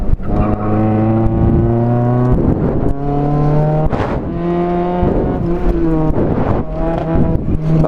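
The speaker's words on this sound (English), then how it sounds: "I'm drifting around every corner." A Mazda Miata engine revs and drops repeatedly as it shifts, loud and close, with bursts of noise like tires sliding through turns while drifting corners.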